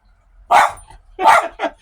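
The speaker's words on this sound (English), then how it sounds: "He's barking outside again." A dog barks outside in three sharp bursts, fairly close and loud, with brief quiet gaps between them; no one talks.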